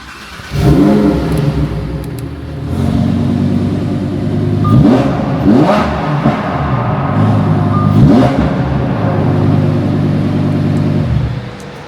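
A supercar's engine revs repeatedly at close range, loud throaty blips rising and falling over a steady idle rumble.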